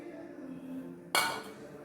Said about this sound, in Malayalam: ഇതിലേക്കാണ് നീളത്തിൽ മുറിച്ച കുമ്പളം ഇടുന്നത്